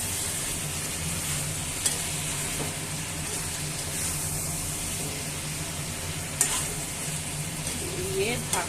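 Chicken curry with potatoes being stirred in a hot pan, giving a steady, close sizzle and frying hiss with occasional soft scrapes of a spoon against the pan.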